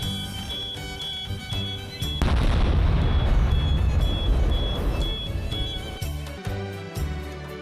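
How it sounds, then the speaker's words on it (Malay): A ceremonial cannon salute at an official state ceremony, heard as a heavy booming blast that swells into a long, dense rumble lasting several seconds, set against steady background music and a high tone, with no voices. "3 tembakan das meriam menyusul menandakan bermulanya istiadat secara rasmi"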